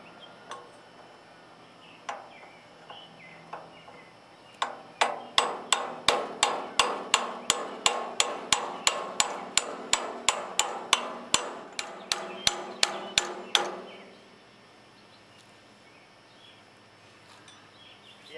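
Rapid, evenly spaced hammer blows ring off the flywheel of a 1964 Sears Suburban 600 garden tractor, around twenty loud metallic strikes in a steady rhythm, with a few scattered knocks before and quiet after.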